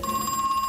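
A telephone rings in the horror video game Crow Country, a short steady electronic ring heard clearly and alone.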